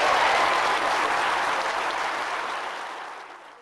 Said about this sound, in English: that still sends goosebumps down my spine when I hear that cheer